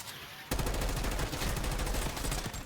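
Mangler arm gun in Black Ops 6 Zombies firing a sustained, loud burst of heavy rapid shots that starts abruptly and rolls on continuously with booming low-end impacts.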